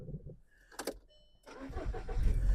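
The 1.6 MPI engine of a 2009 Volkswagen Caddy Life is cranked and started: a short starter whir and a brief burst, then a quiet pause, then the engine catches and settles into a rising, steady running rumble, close by.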